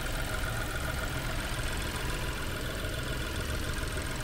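A small car engine idles steadily under the hood, a constant low rumbling hum with no breaks, heard from close by.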